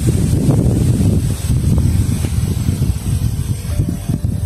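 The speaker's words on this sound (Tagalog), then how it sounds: "Malakas ang hangin ngayon." Strong wind buffets an outdoor microphone as a steady, loud low rumble with gusty swells, filling the whole stretch with no voices.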